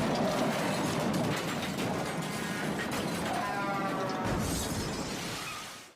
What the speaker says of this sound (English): The sound of metal twisting, glass shattering, and the tires screeching filled the air.